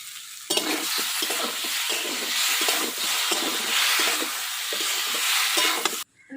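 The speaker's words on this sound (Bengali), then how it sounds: "লঙ্কা ভাজা হয়ে গেছে, জল দিয়ে দিলাম" Green chilies frying in a pan with oil, a continuous loud sizzle with rhythmic stirring scrapes, close by and without talk, cutting off at the end.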